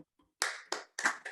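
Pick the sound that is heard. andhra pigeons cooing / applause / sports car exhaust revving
applause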